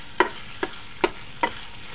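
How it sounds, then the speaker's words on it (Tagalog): Beef offal with ginger fries in a pan while a spatula stirs it, giving four evenly spaced sharp scrapes over a low sizzle, close by and with no talking. "Haluin natin."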